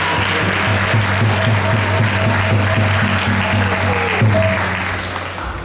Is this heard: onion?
no